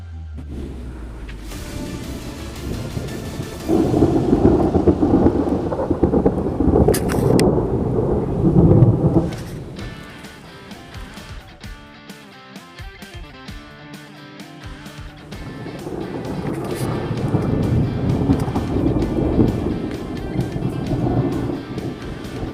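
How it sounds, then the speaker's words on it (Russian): Heavy thunder rolls through a summer thunderstorm with rain and wind. Loud, long, rumbling peals build, ease off midway and swell again over steady storm noise. "Хорош гром. Очень громко."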